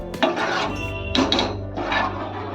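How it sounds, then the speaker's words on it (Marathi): A metal lid clatters onto a pot of pea curry simmering on low heat, giving a few sharp clinks and scraping rattles close by in a quiet kitchen. "आता ह्याच्यामध्ये झाकण मारून ठेवते मी शिजत बारीक गॅसवर"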